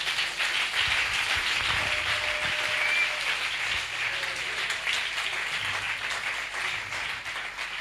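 A church congregation applauds continuously, a dense, steady wash of clapping that stays loud and even throughout with no voices standing out.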